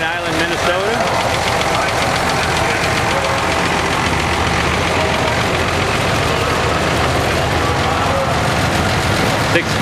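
A 656 row crop Hydro gold demo tractor runs loud and close at a Red Power show, its steady knocking engine rumble constant throughout with a voice faintly over it.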